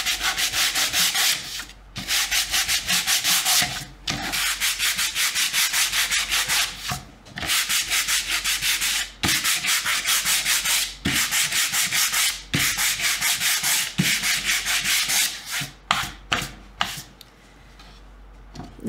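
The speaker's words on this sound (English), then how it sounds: "They say that sanding is my cardio when we're painting" Steady, rhythmic back-and-forth sanding strokes on painted wood, close and fairly loud, with a few brief pauses between passes and no talking.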